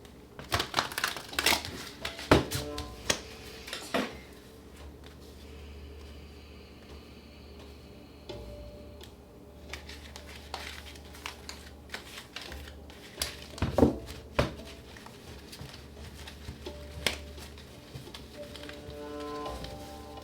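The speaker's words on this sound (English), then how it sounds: "All right, let's get one more shuffle." Tarot cards being shuffled by hand, a series of quick crisp riffling bursts and taps that come and go irregularly, fairly faint and close, with pauses of near quiet between.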